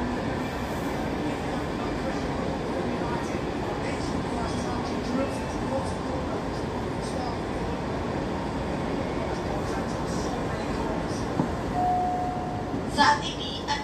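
A KRL Commuter Line electric train runs from Manggarai toward Cikarang, with a steady rumbling ride and rail noise that carries on throughout. A brief tone and a few clacks come near the end.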